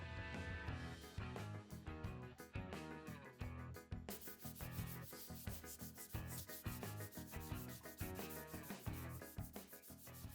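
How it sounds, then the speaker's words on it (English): Dried wood filler over old cabinet hardware holes is sanded smooth by hand, a steady scratchy rubbing in repeated strokes that sits under loud, rhythmic background music. "sanded it down smooth"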